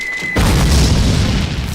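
A single loud mortar explosion in a classic Call of Duty battle, a sudden close boom that erupts after a thin whine and rumbles on for over a second, alone without voices.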